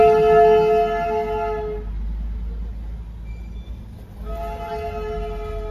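Darjeeling toy train near Kurseong station sounds a sustained horn blast, then falls quiet before the horn sounds again, with a low rumble of rail and road traffic underneath.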